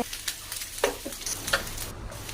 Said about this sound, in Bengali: আলু আর পটলটা যোগ করব। করার পরে বেশ খানিকটা সময় নাড়াচাড়া করে